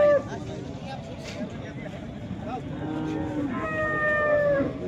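A cow moos in long, low calls against a busy outdoor background, while people talk nearby, at a cattle market in Modnimb.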